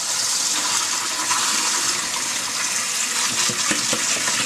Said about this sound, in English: Get some cold water flowing through there.